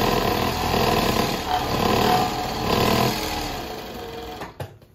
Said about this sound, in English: See, they use this machine for doing stuff like constantly sewing.